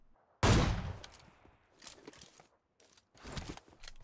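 A single loud, close sniper-style gunshot from an AWM rifle in PUBG Mobile cracks out and decays, followed by softer scattered in-game clatter and movement sounds.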